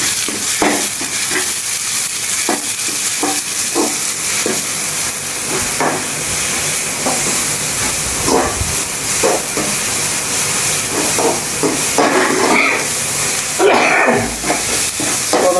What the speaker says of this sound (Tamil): இஞ்சி பூண்டு போட்டு போகிறோம்.